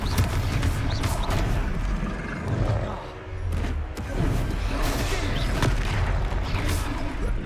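A Confringo fire spell explodes during combat in Hogwarts Legacy, with heavy booming blasts and crackling impacts forming a loud, dense, continuous barrage.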